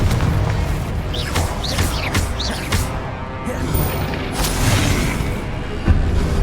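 Booming blasts of the Confringo spell in Hogwarts Legacy on Xbox Series S, several loud bursts and crashes amid continuous game noise and shouted spell casting.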